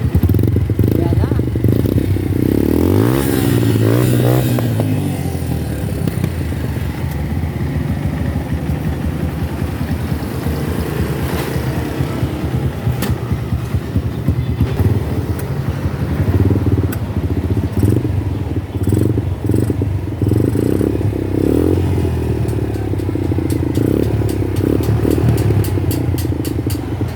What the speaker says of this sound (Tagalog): Nabuo na ang project bike nila. Umaandar na, boss.